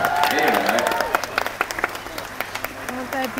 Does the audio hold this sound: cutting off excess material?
no